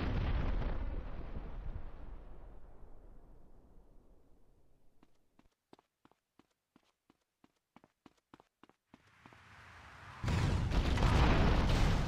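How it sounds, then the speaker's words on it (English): Rocket-propelled grenade explosions in the GTA Vice City video game: a heavy blast fades into a long decaying rumble, a series of sharp ticks follows in the quiet, then another loud burst erupts and holds near the end. "Shoot at him. And hopefully not run out of rocket-propelled grenades."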